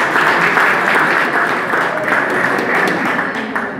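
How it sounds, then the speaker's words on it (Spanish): Applause fills a forum audience, a dense, steady wash of many hands clapping close and loud for the whole stretch, with no talk over it. "Un aplauso para ellos."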